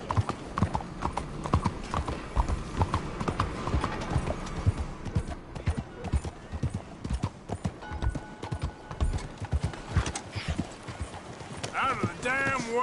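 Horse hooves galloping at a steady clip-clop in Red Dead Redemption 2, continuous and close for the whole stretch, with a whinny near the end and someone shouting over the hoofbeats.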